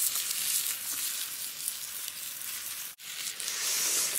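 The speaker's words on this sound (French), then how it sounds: "je suis en train de faire revenir les oignons et les steaks" Onions and steaks fry on a stainless steel plate at a bushcraft bivouac, giving a loud, steady, close sizzle that runs throughout with one brief dip near the end.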